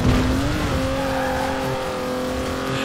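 A Camaro race car in Forza Horizon 4 drives hard, its engine holding a steady droning pitch that rises slightly, close and loud, with no talk.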